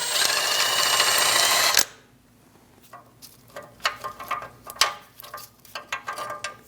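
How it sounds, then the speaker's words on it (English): A loud whirring power tool cuts off abruptly, then a ratchet with an 18mm socket clicks in uneven bursts while removing a front lower control arm bolt on a 2001-2006 Chevrolet Silverado 2500 HD. "Using an 18mm socket,"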